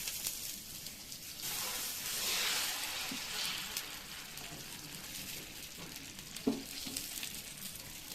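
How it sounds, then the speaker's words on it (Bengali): Dosa batter sizzles on a hot griddle sprinkled with water while masala dosa is being made. A steady, soft frying hiss swells briefly, then settles, with one small clink near the end. "সামান্য একটু জলের ছিটা দিলাম, আবার উপরে ব্যাটারগুলো দিয়ে দিচ্ছি"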